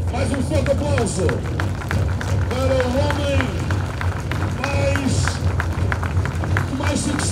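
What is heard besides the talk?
crowd applauding a cyclist at a race ceremony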